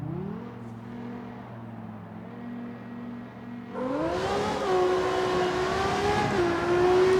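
A Nissan GT-R's engine in CarX Street holds steady revs during a launch-control start, then surges louder with a rising, whining pitch as the car pulls away, droning close and continuous.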